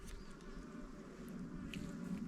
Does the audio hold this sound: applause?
no